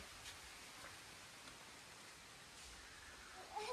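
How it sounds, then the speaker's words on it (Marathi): Soft, steady rain falling outdoors in a village during a Dahi Handi celebration, a faint continuous patter with no voices. "हे बघा, पावसाचं पण आगमन झालंय."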